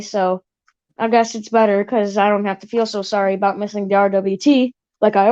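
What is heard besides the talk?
No everyday noises stand out.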